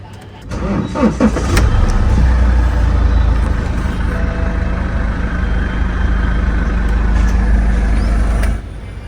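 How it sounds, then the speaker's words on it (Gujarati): A BMW car engine cranks and starts, then idles with a steady low rumble for several seconds before cutting off, loud and close. "ગાડી હું સ્ટાર્ટ કરીને તમને બતાવું"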